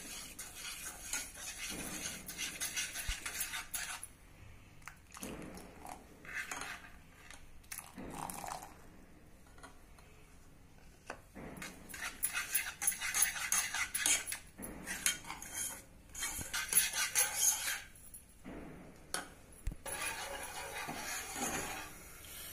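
A spoon stirs milk, added little by little, into eggless chocolate cake batter in a metal bowl, with irregular bursts of clinking and scraping against the sides, separated by quieter pauses.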